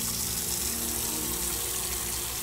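Water pours steadily into a container in the Autopsy Simulator video game, a continuous even gush with no pauses.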